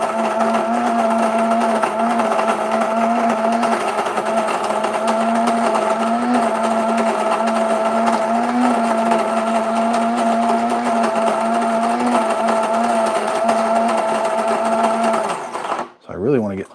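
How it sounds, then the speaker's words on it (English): A Breville Grind and Brew coffee grinder runs with a steady, moderately loud motor whine and grinding hum for about fifteen seconds, then stops abruptly. "So this coffee grinder's not super loud."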